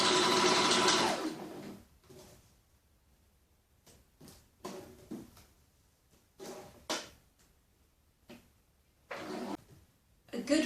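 A sewing machine stitches gold metallic stretch fabric for a crop top, running in one loud sustained burst at first, then in short separate bursts and brief whirs with quiet gaps between.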